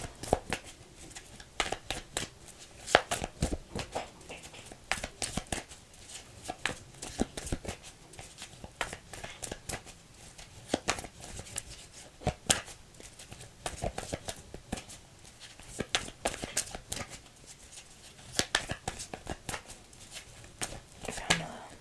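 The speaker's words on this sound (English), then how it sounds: "It just keeps telling me to keep shuffling." Repeated crisp riffling bursts of playing cards being shuffled, steady and fairly close, continuing for a long stretch with faint background sounds.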